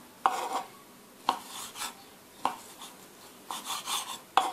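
A knife slices a sausage lengthwise into pieces, several separate scraping cuts, each ending in a light tap on the board, at an uneven pace, close and fairly quiet, with no voices.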